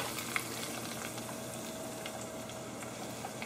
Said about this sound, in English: We add the cumin. Stir it all up together.